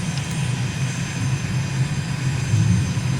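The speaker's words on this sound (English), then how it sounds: "And we're lined up very nicely to fly straight in to runway 22." Simulated aircraft engine in Microsoft Flight Simulator on final approach to land with gear and flaps down, a steady low droning hum with a faint high whine, continuous and even with no talk.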